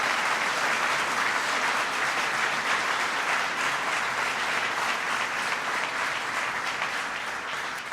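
An audience at Hudson Valley Community College applauds loudly, a dense and steady wash of clapping that holds for about eight seconds and fades a little at the end.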